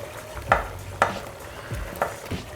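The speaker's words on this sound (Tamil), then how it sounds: "இப்போ கொதிக்கும்போது நம்ம வறுத்து வச்சுருக்கோம் இல்லையா அந்த அரிசியை," Roasted rice being poured into boiling water in a pot and stirred while making chicken kheema biryani, with a few distinct scrapes and clinks at a steady rhythm over a bubbling, sizzling background, close and moderately loud.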